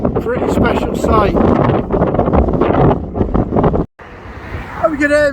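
Heavy wind buffets the microphone in a loud, continuous roar while cycling near Inverness with traffic around, with a brief dropout near the end before the gusting resumes.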